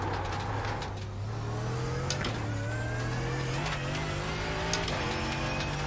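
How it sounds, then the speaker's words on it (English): A faster class race car in iRacing's IMSA GT3 series approaches, its engine a sustained droning note that climbs and shifts pitch as it revs and closes in, loud and steady with faint tyre and gear sounds. "it's a faster class car approaching"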